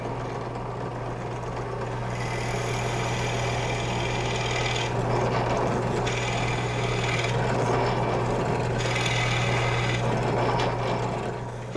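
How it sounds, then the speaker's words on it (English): A power drill boring a hole while mounted on a worm screw in a chuck, giving a steady motor hum with a grinding, rasping cut that swells in bursts over about twelve seconds. "and then I'm going to drill a hole."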